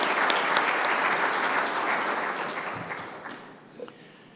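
An audience applauds Indian Finance Minister Arun Jaitley at an event in Australia: dense, steady clapping from a crowd that gradually thins and fades out over about four seconds.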